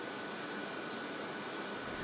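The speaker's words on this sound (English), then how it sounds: "We're here aboard the Department of Defense government plane on the way to Naval Station Guantanamo Bay" Inside a Department of Defense government plane in flight to Naval Station Guantanamo Bay, a steady broad engine roar with a faint high whine holds constant throughout, no talk.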